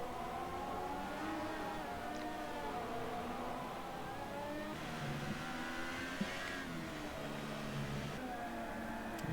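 A Formula 1 race car engine in the F1 2018 game at the Hungarian Grand Prix, a McLaren among the pack, drones steadily with rising and falling pitch as revs shift, constant and fairly loud throughout.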